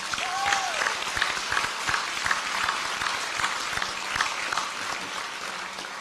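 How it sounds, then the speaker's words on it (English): Steady applause from a large crowd at a university commencement ceremony, dense clapping sustained throughout at an even level, with faint background murmur. "So let's give them a round of applause."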